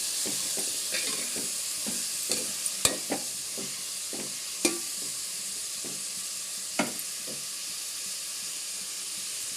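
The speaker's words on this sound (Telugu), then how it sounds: "ఉల్లిపాయ ముక్కలు బ్రౌన్ కలర్ వచ్చేదాకా ఫ్రై చేసుకోవాలి." Sliced onions fry in a pan on a gas stove, a steady close sizzle broken by the scrape and clink of a spoon stirring them every second or so, with a few sharper knocks against the metal.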